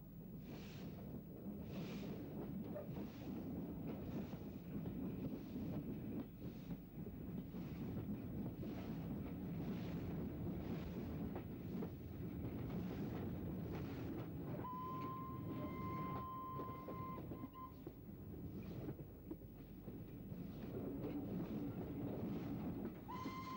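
A T9 steam locomotive hauls its train up the old London and Southampton main line past the Southampton Terminus goods shed, a steady rolling rumble with rhythmic beats, wind buffeting the microphone and a short whistle-like tone partway through.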